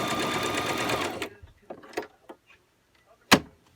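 A sewing machine stitches a DIY Christmas stocking in a rapid whirring burst lasting about a second, then stops, followed by scattered clicks and knocks of fabric and machine handling.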